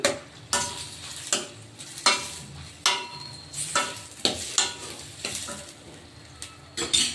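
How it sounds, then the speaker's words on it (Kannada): Thickly cut onions and tomatoes fry in oil with a close, steady sizzle, marked by rhythmic spatula strokes scraping the pan about once a second; no one speaks. "ಈರುಳ್ಳಿ ಮತ್ತು ಟೊಮೊಟೊ ಹಣ್ಣು ಚೆನ್ನಾಗಿ ಎಣ್ಣೆಲಿ ಫ್ರೈ ಆಗಿದ್ದಾವೆ"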